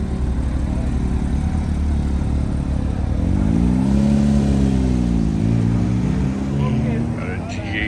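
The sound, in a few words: McLaren 600LT and Porsche 992 GT3 engines in workshop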